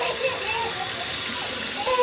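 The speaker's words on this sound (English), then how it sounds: "Let's get some water started." Tap water runs steadily into a bathtub at home, a continuous close rushing hiss with faint splashing, while a voice is heard briefly.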